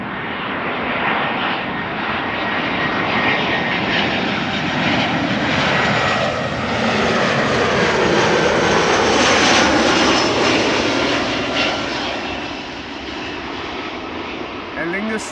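An Aer Lingus flight from Dublin arriving at Amsterdam Schiphol Airport, its loud aircraft engine roar building steadily, swelling to a peak mid-clip and then slowly fading, heard outdoors with a continuous broad whoosh.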